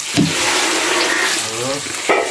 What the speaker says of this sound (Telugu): ఇట్లా వత్తుకొని తీసి డీప్ ఫ్రై అయినా ఆయిల్ వేసుకోవాలి